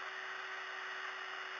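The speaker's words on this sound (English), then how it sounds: "now we're in the drill, and as you can see, as it spins up" Electric drill fitted with grass-cutting blades spinning at speed, giving a steady, continuous high-pitched whine with a constant tonal hum, close and even throughout with no talk.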